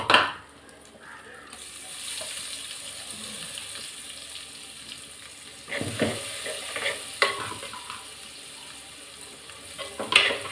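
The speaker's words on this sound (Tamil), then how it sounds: "கடுகு பொடிஞ்சிச்சு, வெங்காயத்தை போட்டுக்கிறேன். வெங்காயம் நல்லா வதங்கட்டும்." Small sambar onions sautéing in a pan of oil with popped mustard seeds for fish kulambu, a steady close sizzle broken by stirring scrapes and a few louder clatters, with no voices.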